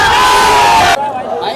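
A protest crowd in Jaipur shouts loudly and continuously, a dense roar of many voices that drops off abruptly partway through to a quieter background.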